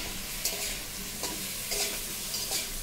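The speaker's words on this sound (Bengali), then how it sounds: "এবার কাজু আমি ছেড়ে দিলাম। আবার এগুলো একটু লাল লাল হবে।" Cashews frying in ghee sizzle softly and steadily in a pan, with a few scraping stirs every second or so and no voices.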